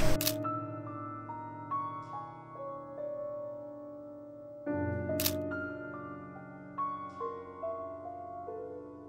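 Two crisp camera shutter clicks, several seconds apart, over soft tonal background music.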